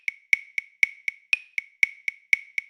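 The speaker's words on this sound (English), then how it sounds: "3/4 sounds like this" Twelve evenly spaced clicks of a metronome-like tick, with every third one louder, giving a steady three-beat pulse in 3/4 time.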